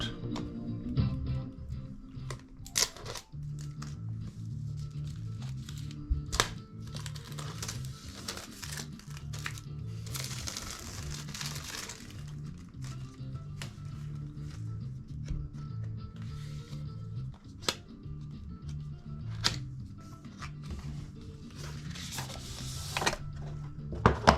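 An Apple Watch Series 6 box being unpacked up close: packaging rustles and crinkles, with scattered sharp clicks and snaps of pieces being pulled apart over a faint low hum, and no talk.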